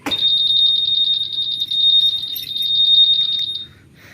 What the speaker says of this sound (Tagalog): Mag-aalarm siya kapag ganito yung ginawa natin.